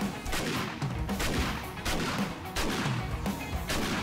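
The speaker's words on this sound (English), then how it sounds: "Ooh, I'm liking this shotgun." Auto shotgun firing in a zombie-survival game, a series of heavy, close blasts spaced about a second apart over a dense, noisy background of game action.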